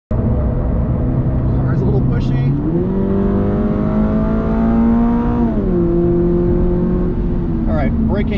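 2022 Toyota GR86 engine pulling hard on a race track, a loud continuous drone climbing in pitch, dropping at a gear change and rising again, with someone talking over it.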